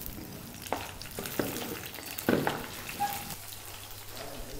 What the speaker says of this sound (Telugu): పోపు బాగా వేగిన తర్వాత తరిగిన పచ్చిమిర్చి ముక్కలు వేసుకుందాం